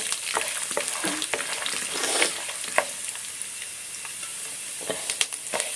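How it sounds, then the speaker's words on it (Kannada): Urad dal, peanuts and curry leaves fry in oil with a steady close sizzle, broken by scattered sharp crackles and pops and the occasional scrape of stirring. "ಇದನ್ನ ಇವಾಗ ಫ್ರೈ ಮಾಡ್ಕೋಬೇಕು"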